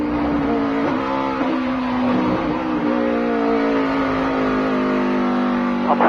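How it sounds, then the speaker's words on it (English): A race car engine drones loudly in onboard audio during a practice session, holding a strained high pitch with shifting tones as the car downshifts. "that was a lot of RPMs when he downshifted right there"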